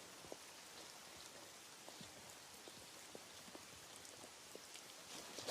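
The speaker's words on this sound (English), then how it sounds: "it is raining quite steadily" Steady rain falls on a garden, a soft, even hiss with scattered sharper drops tapping nearby, faint and continuous with no voices.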